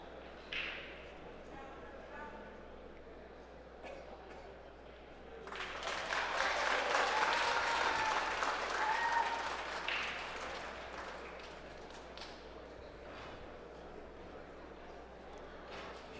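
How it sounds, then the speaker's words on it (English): A burst of applause from an audience at a neighbouring pool table during the Medalla Light Puerto Rico Open 2023 swells for about four seconds over a steady room hum, with faint voices nearby before and after. "Huge applause from the next table"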